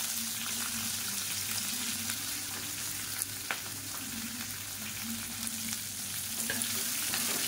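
Steady sizzling of chopped onions and green chilies frying in hot oil for chutney, a continuous crackle with occasional stirring clicks, close and fairly loud throughout.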